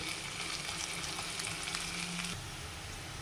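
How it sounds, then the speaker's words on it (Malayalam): Onion, garlic and curry leaves fry in oil in a pan, producing a soft, steady sizzle with light crackles that drops slightly in level near the end, with no speech. "അപ്പോൾ ഉള്ളി വെളുത്തുള്ളി കറിവേപ്പില വാടി വരുന്നുണ്ട്"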